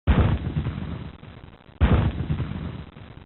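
Union artillery in an 1862 Civil War battle fires twice, each shot a loud, close boom followed by a rolling rumble that fades before the next blast about 1.7 seconds later.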